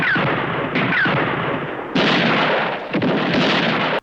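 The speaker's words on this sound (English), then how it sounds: "Oh, he's shooting them." Repeated heavy gunshots from a 1964 spaghetti western, A Fistful of Dollars: loud, booming blasts with rolling echoes, spaced roughly every second, dense and reverberant with no talk over them.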